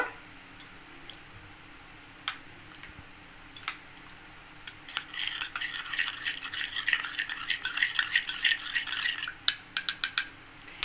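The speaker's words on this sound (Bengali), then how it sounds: "এবার অল্প একটু দুধ উঠিয়ে নেবো, গরম অল্প উষ্ণ দুধ উঠিয়ে গুলে নেব" A spoon scraping and clinking against a bowl while cornflour is mixed into a little warm milk, soft rubbing strokes giving way to a quickening run of light, close taps and clicks.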